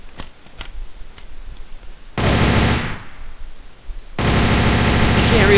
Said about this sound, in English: So here's the death machine. It does 15 damage per hit, and it fires really fast, and it has 350 ammo.